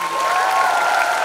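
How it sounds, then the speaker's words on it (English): Audience applause for Karan Johar at a film promotion event, a short steady burst of clapping from a crowd, full and close throughout. "Huge round of applause for Karan Johar."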